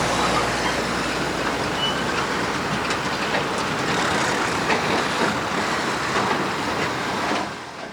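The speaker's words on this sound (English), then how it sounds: "Trucks like these are the only ones that you can see plying this side of the road." Heavy trucks rumble along a badly damaged, washed-out road in Ogun State, a loud continuous roar of engines and rattling close by that holds steady for several seconds before easing off.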